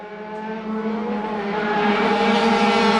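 A race car roars through the Devil's Elbow corner during a Saturday round of circuit racing, its loud, close engine whine holding steady and then climbing slightly in pitch as it accelerates, with no talk over it.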